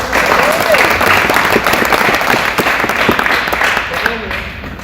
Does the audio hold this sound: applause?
yes